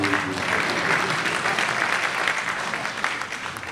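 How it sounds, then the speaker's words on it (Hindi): Sustained applause from an audience at a Hindi comedy poetry gathering in Queens, New York, a steady wash of clapping that holds evenly and thins slightly toward the end. "और तालियां चाहूंगा"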